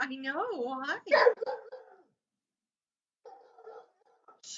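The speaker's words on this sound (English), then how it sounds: "That's our dog." A dog yips and whimpers a few times up close, mixed with people talking indoors, followed by quieter pauses.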